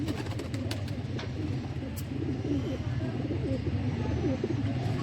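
Pigeons of a pure high-flying breed cooing steadily close by, low soft murmuring coos running continuously through a noisy loft-like setting.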